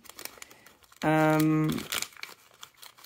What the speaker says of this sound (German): Dann kommt das jetzt erstmal wieder in die Tüte rein natürlich.